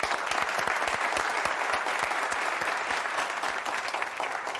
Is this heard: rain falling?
no